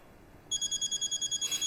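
A phone rings indoors, a wife calling her husband: near, clear repeating electronic ring bursts in a steady pulse starting after a brief quiet moment, with no talk over it.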